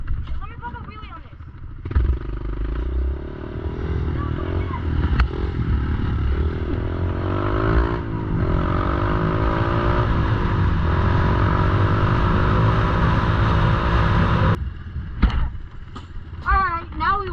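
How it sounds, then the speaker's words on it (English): A motorcycle engine revs hard and sustains a loud, rising drone while the rider pops a wheelie, with clatter and voices over it before the engine note drops away near the end. "Let me pop a wheelie on this."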